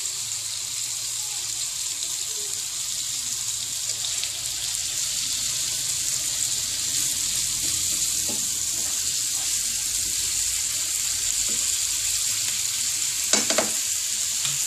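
A turkey liver mixture sizzles steadily over low heat, a continuous close hiss with faint occasional stirring clinks and no talking.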